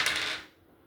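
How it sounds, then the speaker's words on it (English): Dice rattle and tumble across a table in the board game Broken: Survival Village, a short close clatter that quickly dies away into quiet. "To see where it goes, roll the dice."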